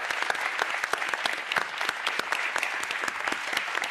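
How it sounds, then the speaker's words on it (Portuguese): Audience applause after a talk, steady clapping from a seated crowd that continues throughout, close and lively with distinct individual claps. "Uma salva de palmas."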